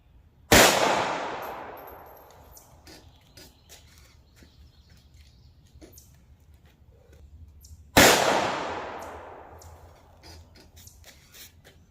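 Two loud, sharp gunshots from a .380 ACP pistol firing Speer Lawman 95 grain ball ammunition outdoors, spaced several seconds apart, each with a long fading echo, with faint birds in the background.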